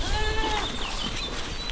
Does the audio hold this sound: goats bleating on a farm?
yes